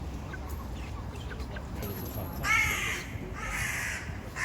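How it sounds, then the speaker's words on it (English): Distressed chickens crammed together in a slaughterhouse truck, a steady mass of overlapping squawks and caws with louder agitated bursts rising above the constant crowded din. "See how distressed the birds are."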